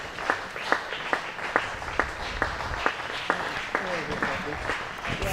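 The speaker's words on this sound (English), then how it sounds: "Hear the deserved applause." Cricket ground crowd applauding a batsman leaving the field after a long innings, a thin scattered patter of clapping with distinct individual claps, mixed with commentary voices talking over it.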